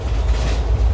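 A train running near Markapuram gives a loud, continuous low rumble with faint rhythmic rattling, heard from close by and without speech.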